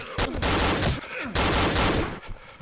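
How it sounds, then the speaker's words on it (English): Shotgun blasts in Cry of Fear, several loud close shots in quick succession, each with a heavy boom and short decay, followed by quieter clatter. "Shotgun them all!"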